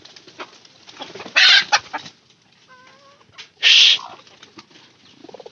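A broody hen clucks twice in loud, close bursts, with softer farmyard bird calls and faint background noise between them.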